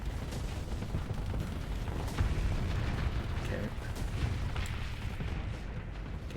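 Missile explosions in the space combat game Starsector, a dense run of booming blasts and rumbling bursts that overlap continuously, loud and close with a heavy low-end roar and no clear gaps.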